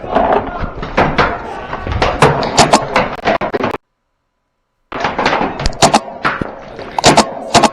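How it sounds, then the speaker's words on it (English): Paintball marker firing on full auto during an outdoor game, with rapid sharp pops in dense bursts, a brief silent gap, then more volleys; people talk faintly underneath. "Shooting full auto at me"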